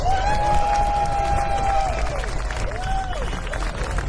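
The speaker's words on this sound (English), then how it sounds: "Give yourselves a round of applause." A rally crowd at a No Kings protest in Gainesville, Florida applauds and cheers, a broad roar of clapping and voices with a whistle-like tone rising above it, loud and steady throughout.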